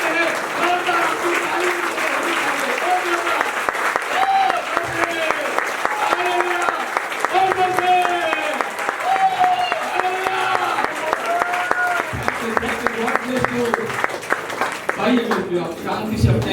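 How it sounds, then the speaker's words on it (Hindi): Loud, sustained clapping from a congregation at a church meeting in Warora, dense and continuous, with a voice talking over it throughout. "हम सब खड़े होकर उनके लिए जोरदार ताली बजाएंगे"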